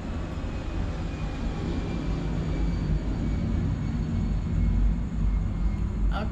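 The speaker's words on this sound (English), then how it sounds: "Okay, wala na airplane. Ayan, pasensya na sa airplane, okay?" An airplane flies overhead, a steady low broadband rumble that swells slightly toward the end and continues throughout with no talking.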